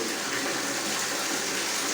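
Strong water gushing steadily from a spout or shower-like outlet, a loud continuous rushing splash filling the whole clip with no voices over it.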